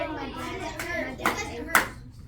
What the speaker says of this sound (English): what does that mean, Vicky, when she gives the clap